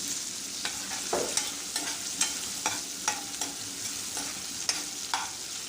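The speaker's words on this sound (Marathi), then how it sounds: "कांदा आणि टमाटर थोडा लालसर होईपर्यंत परतून परतून घ्यायचा आहे आपल्याला" Chopped onion and tomato sautéing in oil for a traditional festival thali, with a constant sizzle and repeated stirring scrapes of the spatula at a steady pace, close and alone.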